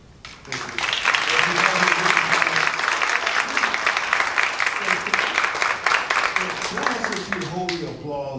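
Applause from the audience at a gun control forum swells after a quiet start, holds as dense sustained clapping for several seconds, then fades as voices return near the end.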